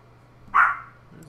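A puppy gives one short, sharp bark close by. The sound stands alone against quiet background hum and lasts only a moment.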